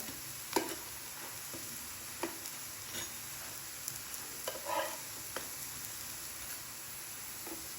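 Jowar puri shallow-fries in a couple of spoons of oil, giving a faint, steady sizzle with scattered small pops and crackles, heard alone with no talk.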